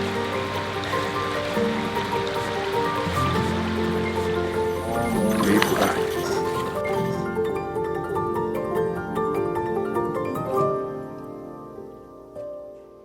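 Water flowing steadily along a river, a continuous rushing wash that stays close and fairly loud before thinning out near the end.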